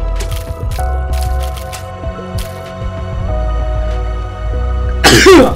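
A single sharp sneeze bursts out at the very end, loud and close, after a stretch of The Binding of Isaac game music and faint clicks.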